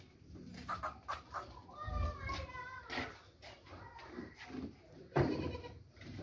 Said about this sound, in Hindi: ये बकरा जा रहा है और ये लाल चीनी बकरी है